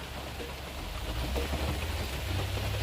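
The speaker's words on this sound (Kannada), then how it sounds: "ಮಳೆ ಮಾತ್ರ ಜೋರು ಹುಯ್ತೈತೆ ಮಳೆ" Steady, dense monsoon-style rain pours down without a break in Koppal, Karnataka, a continuous wash of hiss with a low rumble underneath and no voices.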